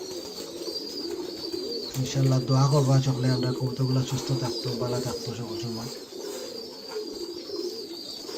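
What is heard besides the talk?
pigeons cooing at a pigeon farm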